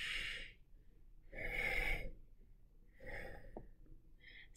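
A voice imitates a drunk man's labored nasal breathing: three heavy, snorting breaths with pauses between, close and fairly loud, with no other sound.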